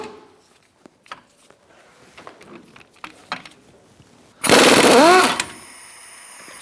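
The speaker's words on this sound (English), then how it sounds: "Now we're going to take out our bolts for the caliper bracket." An impact tool on an 18mm socket breaks loose a caliper bracket bolt on the rear brakes of a 2005-2010 Chrysler 300, giving one loud rattling burst of about a second after scattered quiet clanks of tools.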